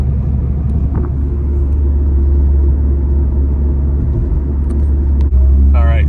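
A 4th-gen Mazda 3 with its stock air box, cruising in stop-and-go traffic: a steady, loud low engine drone and road rumble from inside the cabin, continuous throughout, with a brief faint voice near the end.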